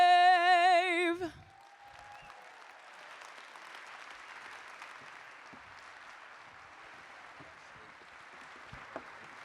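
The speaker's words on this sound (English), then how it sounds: "Let's give Ashley another big round of applause" An audience at the 2021 Oklahoma Hall of Fame Induction Ceremony breaks into steady applause as a sung tone ends. The clapping holds even and moderately distant for several seconds.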